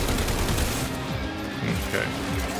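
AK-47 fire in the game Warframe, rapid bursts of shots layered over a busy, dense battle din, moderately loud and continuous for a few seconds.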